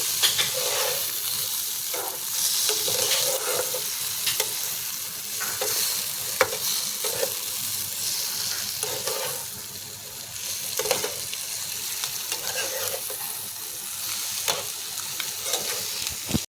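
Beaten eggs stirred into fried eggplant in a hot pan, with a steady close sizzle broken by repeated spatula scrapes and clacks, no voices.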